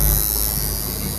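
A tattoo machine drones in a shop while a name is tattooed, a continuous close electric buzz and hum with no talking.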